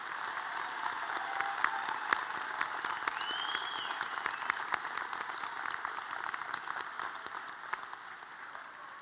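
At a technical college completion ceremony, an audience in a hall claps for graduating students in a steady, moderately loud ovation lasting several seconds, with no talk on top.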